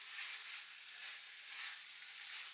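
Raw prawns dropped into a very hot curry mix sizzle and fry steadily from start to finish, a close, even, crackling hiss with no talk.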